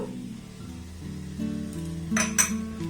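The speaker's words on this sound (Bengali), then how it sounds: "এটাকে একটু ভালোভাবে এইভাবে নাড়াচাড়া করে নেব" Curry leaves stirred in hot oil in a pan give a quiet sizzle with a few utensil clinks and scrapes, faint and close, with a low hum underneath.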